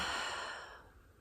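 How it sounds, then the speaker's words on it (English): A single long, soft exhale during a guided breathing exercise, close and quiet, tapering off over about a second. "and exhaling out."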